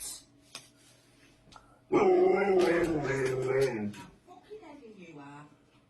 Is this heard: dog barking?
yes